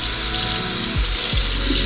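Water runs steadily from a tap to wet dreadlocks before washing, a loud, continuous close splashing rush with no talk.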